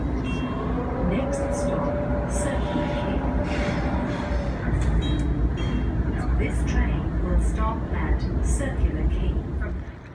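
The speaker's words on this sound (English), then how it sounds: "I'm on board the train at Town Hall station, going towards Circular Quay" A rumbling ride aboard a moving Sydney City Circle train from Town Hall station towards Circular Quay, with steady low-frequency rolling noise, faint squeaks and rattles, and a high tone fading in and out.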